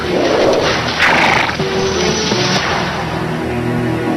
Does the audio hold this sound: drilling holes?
no